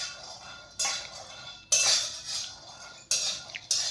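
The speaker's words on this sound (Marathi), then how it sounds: "तर शाबू बनवण्यासाठी आता आपण इथे शेंगदाणे भाजून घेऊया।" Peanuts being dry-roasted and stirred in a pan at home, with several separate bursts of scraping and rattling as a utensil moves them against the metal, quiet between strokes.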